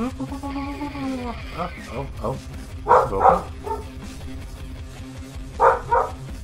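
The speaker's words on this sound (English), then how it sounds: "Excuse the dog barking." A dog barks in short pairs of sharp yaps at a moderate distance, two bursts spaced a few seconds apart over indoor background noise, with a brief spoken exclamation and other game sounds alongside.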